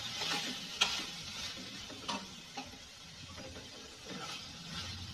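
Prawn fry being stirred in a pan, a spoon scraping and clicking against the metal over a steady sizzle, with a few sharper taps along the way and no voices.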